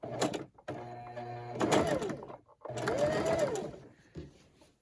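A sewing machine stitches a Christmas table runner in two bursts of steady, close whirring separated by short pauses, with faint handling noise between runs.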